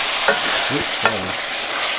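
A spoon stirs black beans into a beef enchilada casserole mixture, giving a couple of close scraping, sloshing strokes against a faint sizzling background.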